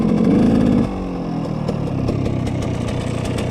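A motorcycle fitted with a single-ring piston revs hard, then the engine note drops at a gear change and climbs again in a rough, close, loud rasp as it accelerates, with no talking.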